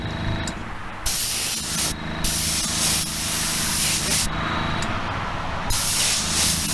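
Paint spray gun laying light tack coats on a custom Bone Shaker build, a loud close hiss running in several long passes with brief pauses between them.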